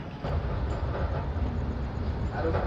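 A train pulls out of Farakka station, the 13190 Balurghat–Sealdah Express, giving a steady, loud, close rumble of wheels and carriages throughout.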